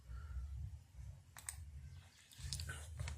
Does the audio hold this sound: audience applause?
no